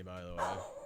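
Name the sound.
dog barking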